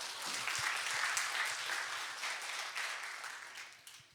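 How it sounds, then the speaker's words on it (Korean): A church audience at an evangelism camp gathering applauds together, a steady wash of clapping that holds for several seconds and slowly fades, with no talking over it. "박수 한번 쳐주십시오"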